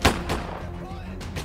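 Gunshot in the police video game Autobahn Polizei Simulator, a sharp headshot crack at the start followed by a couple of further bursts, with talk faintly under it.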